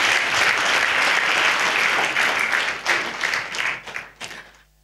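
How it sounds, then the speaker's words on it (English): A church congregation claps loudly together, a thick steady wave of applause that thins and fades out over the final second. "Clap for Jesus."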